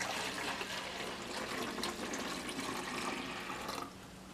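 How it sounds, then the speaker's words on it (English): A liter of water pours into a pitcher, a soft continuous gushing splash that runs steadily for several seconds before tapering off near the end. "you're going to take your liter of water and you're going to pour it inside your pitcher"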